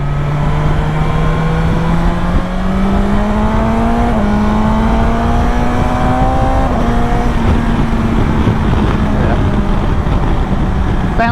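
A new, not-yet-run-in BMW S1000XR motorcycle engine revs hard and repeatedly, bouncing off the rev limiter, a loud, continuous, close engine roar whose pitch climbs steadily across the clip.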